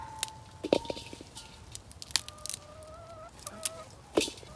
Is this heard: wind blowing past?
no